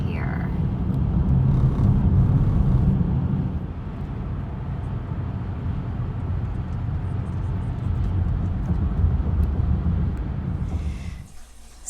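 A car rolls along a scenic drive, its steady road and engine rumble filling the cabin without pause, with a brief rise near the start and a faint fade at the very end.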